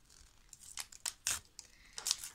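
Paper surprise packet being torn open by hand, a few sharp ripping and crinkling bursts with short pauses between them, close and fairly quiet.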